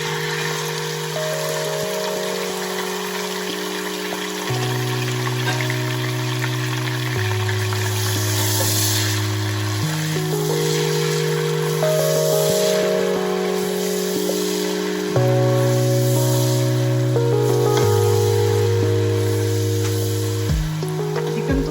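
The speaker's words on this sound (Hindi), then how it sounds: "और अब हम अपना चिकन जो है ना उसको फ्राई करते हैं" Chicken frying in a pan for homemade biryani gives a continuous hissing sizzle heard under loud background music with a steady bass line throughout.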